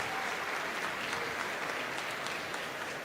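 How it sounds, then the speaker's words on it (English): Audience applause at a Rubik's Cube world championship during 2x2 solving, a steady broadband wash of clapping that holds evenly for about three seconds with no voices over it. "Got some applause in the audience."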